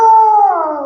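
A child imitates a dog with a voice, producing a single loud, close, drawn-out call under a second long that sounds more like a howl than a sharp bark.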